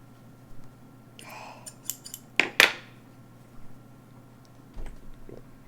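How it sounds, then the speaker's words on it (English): Sewing scissors snip through several pinned layers of fabric at a shoulder seam, a few crisp metallic cuts close up in a quiet room. "Make sure your pins are out of the way of the scissors and cut through all"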